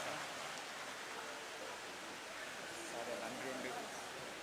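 Pouring rain falls steadily over an outdoor gathering in Kilinochchi, where the president is present, making a dense, even hiss throughout with faint voices beneath it.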